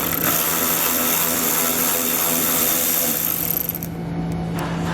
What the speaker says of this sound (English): we'll use a 7mm socket to pull it out